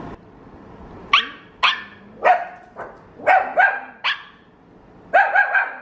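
A dog barks in a series of sharp, loud barks, some spaced apart and a quick cluster of three near the end, close to the listener.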